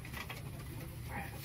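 Pigeons cooing in a loft during a visit to a racing pigeon team's coop, a steady low murmur of coos running through the whole stretch with faint background noise.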